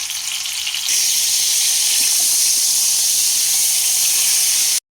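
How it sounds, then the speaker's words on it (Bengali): Pointed gourds (potol) drop into hot mustard oil over a medium flame and set off a loud, steady, hissing sizzle that jumps up after the first second and runs unbroken until it cuts off. "মিডিয়াম ফ্লেমে পটলগুলোকে খুব ভালোভাবে ভেজে নেব"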